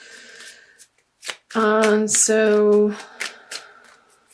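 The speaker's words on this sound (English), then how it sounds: "So I feel like these want to be shuffled." Tarot cards being shuffled by hand in a few quick riffling bursts, close and fairly loud, with someone speaking briefly around them.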